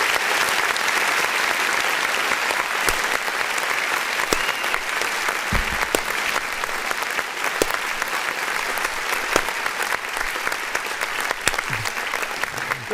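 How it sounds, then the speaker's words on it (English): A canned applause effect plays on a music review livestream, a long, steady roar of clapping and crowd noise that runs evenly for over ten seconds with scattered sharper claps. "Let me give you claps for over here."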